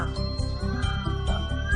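Several cats meowing in quick succession, close and clear, with repeated tonal cries and a slightly whining caterwaul quality over a short burst.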